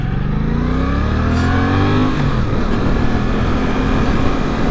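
A 2023 Suzuki GSX-8S motorcycle pulls away, its engine rising in pitch through the revs as it gathers speed, loud and close with steady wind rush, no talking.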